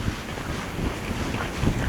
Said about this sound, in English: it has become a bit windy as well